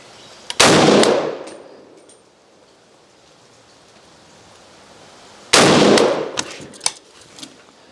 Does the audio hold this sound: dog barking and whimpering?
no